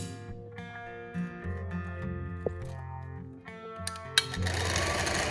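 A sewing machine stitches lengthwise along a fabric tie in quiet short bursts with brief pauses, ending in a louder run of rapid, whirring stitching.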